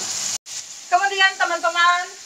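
Food browning its skin in a frying pan, a steady close sizzle running under a person speaking.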